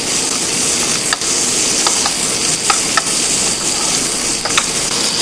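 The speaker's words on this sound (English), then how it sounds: "Let's give it a good mix here." Vegetables tossed over high heat with herbs, garlic and olive oil, a loud constant sizzle broken by scattered clinks and stirring scrapes.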